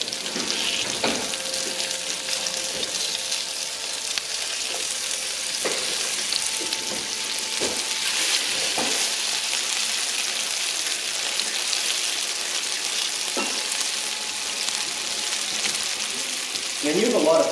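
Potatoes frying in a pan, a steady close sizzle running throughout, with occasional clinks and stirring knocks and a brief rise in sizzle near the end, while people talk faintly at times.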